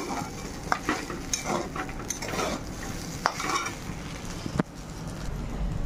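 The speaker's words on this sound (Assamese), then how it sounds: "জহা চাউল আৰু মটনটো ভাজি ল'লোঁ" Steady sizzling of rice and mutton frying in a pan for tehari, with a spoon scraping and stirring in a few sharp strokes.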